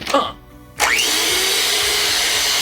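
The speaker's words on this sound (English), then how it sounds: "You're gonna set the mixer to puree for 14 minutes!" A kitchen mixer set to puree kicks on after a brief pause, settling into a loud, steady motor whir that holds to the end, with a voice briefly heard before it starts.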